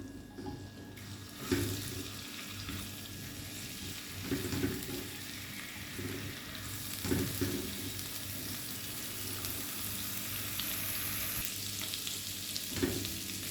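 Garlic and tomatoes fry in a pan, a steady sizzle and crackle with occasional stirring scrapes and brief bursts, close and moderately loud, with no talking.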